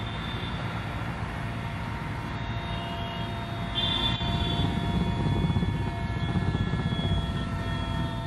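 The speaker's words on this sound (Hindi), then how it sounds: "एयरफोर्स के 2 हेलीकॉप्टर हैं वो आग बुझाने में लगे हुए हैं।" Two Air Force helicopters fight a forest fire in Sariska Tiger Reserve, ferrying water from Siliserh lake. A loud, steady rotor and engine drone runs throughout and swells slightly about halfway, with no talking.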